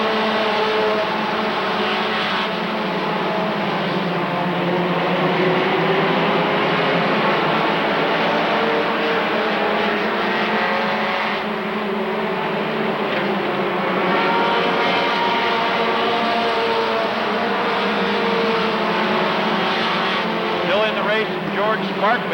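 Race cars accelerating off a green flag at Rockford Speedway in 2000, a loud continuous roar of many engines with rising and shifting tones, heard under an announcer's commentary.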